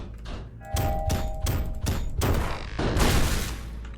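Explosion in the video game Disjunction, heard as a series of heavy booming thuds with bright crackling bursts, loud and close, ending in a larger blast.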